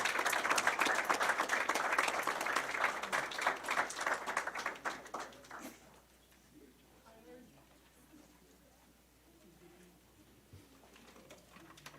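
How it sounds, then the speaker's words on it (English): A roomful of people at a Hall County school board meeting claps for a state runner-up cheerleading squad; the dense clapping holds for several seconds, then tapers off into quiet room tone with faint murmurs. "so let's give them a round of applause"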